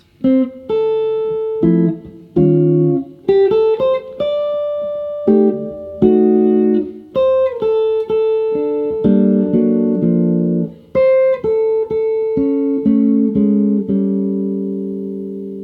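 Solo jazz guitar plays a chord melody arrangement of a song, plucked chords ringing under a single-note tune, with short pauses between phrases and a final chord left to decay.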